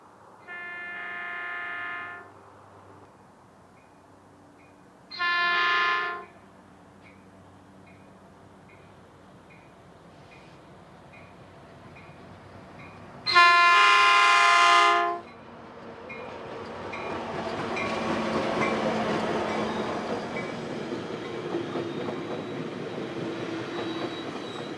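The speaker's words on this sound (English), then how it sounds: "An F-59 and 4 cars were seen approaching the South Perris station on a sunny," A Metrolink F-59 diesel locomotive with four passenger cars approaches South Perris station, sounding its horn in several separate blasts, then the rumbling engine and rolling cars grow louder and steadier as it nears.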